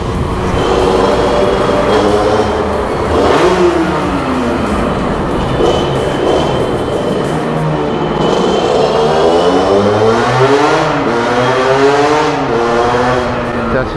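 A Sherco Factory supermoto motorcycle engine revs inside a tunnel, loud and echoing, its pitch climbing and falling in repeated sweeps, with a voice speaking briefly over it.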